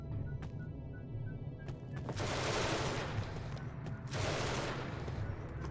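Gunfire in the sci-fi video game Genesis Alpha One comes as a few sharp shots and then two long, loud rattling bursts of automatic fire over a low rumbling game backdrop.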